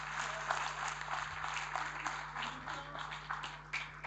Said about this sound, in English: Big round of applause as the Minister gets on the stage.